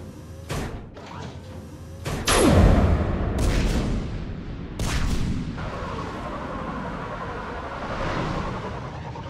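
Heavy artillery guns in a Mass Effect 3 battle firing to punch through a perimeter, with several deep booming blasts and thuds at irregular intervals, one big roaring shot standing out over a rumbling background.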